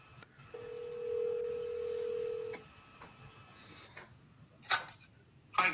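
A telephone being dialed to place a call: a steady tone holds for about two seconds, then after a quiet pause come a couple of brief, sharp beeps, all fairly faint and without any voices.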